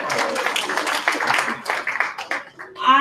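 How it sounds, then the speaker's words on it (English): An audience at a 40th anniversary celebration claps in a dense, steady wash of applause that thins and tapers near the end, fairly close and loud. "So give yourselves a round of applause."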